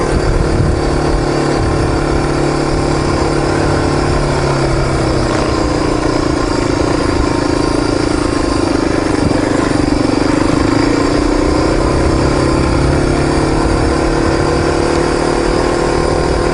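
A motorcycle engine idles steadily on a mountain road, a loud continuous low rumble with a slight rise and fall in pitch partway through.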